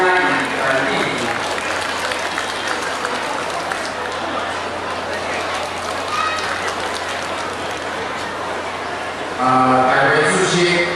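A crowd claps in sustained applause at a 2002 temple inauguration ceremony for Yi He Sheng Tang at Shenyuan Shanzhuang. It stays dense and even throughout, with voices faintly over it at the start and end.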